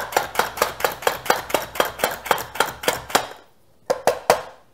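An herb mincer chops onions on a cutting board in rapid, evenly spaced sharp knocks, about fourteen strokes in a steady rhythm, then a short pause and three final chops, close and fairly loud with no talking.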